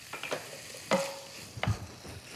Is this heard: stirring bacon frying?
yes